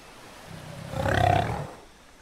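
A young Utahraptor roars in a dinosaur video game, a single rising, swelling cry that peaks mid-way and fades, moderately loud and heard alone.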